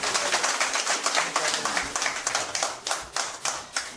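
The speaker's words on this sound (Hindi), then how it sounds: "तालियां इनके लिए।" Crowd at a political party joining event in Bijbehara, Kashmir claps in a brisk, steady patter of many hands, fairly close and loud throughout with no other sounds over it.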